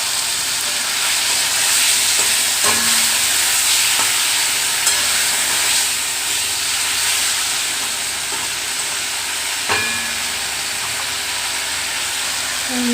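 Potatoes sizzle in a pan with spices, a steady bright frying hiss with occasional stirring scrapes and taps close up.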